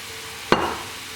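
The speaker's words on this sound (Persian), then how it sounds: "حالا سبزی رو بهش اضافه میکنیم" Finely chopped herbs hit hot oil in a frying pan with a sudden sharp sizzle that quickly fades, close and brief, with no voices.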